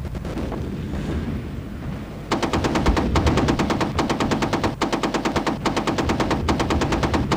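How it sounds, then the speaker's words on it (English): An anti-aircraft gun fires in the F22 Total Air War flight combat game, a sudden loud burst of rapid, evenly spaced shots that continues steadily for several seconds after a rumbling lead-in. "this anti-aircraft gun is firing"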